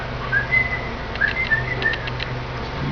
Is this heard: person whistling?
yes